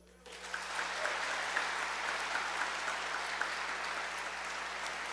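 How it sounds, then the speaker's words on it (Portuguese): Church congregation applauding during a sermon, a continuous soft wash of clapping that swells in quickly after a brief quiet start and stays fairly even, with a steady low hum in the background. "Você pode aplaudir?"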